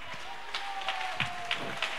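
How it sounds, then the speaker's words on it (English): A church congregation at an evangelist's service claps sparsely and unevenly, a handful of scattered, separate hand claps over a low background murmur. "See, you can't clap well."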